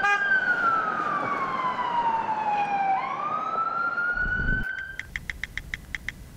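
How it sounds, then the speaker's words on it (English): New York street traffic with a loud emergency-vehicle siren wailing and sweeping in pitch, a steady road roar beneath, ending in a rapid series of short honking blasts. "Traffic noise, really, isn't it? That's the main thing. And that's what makes it New York."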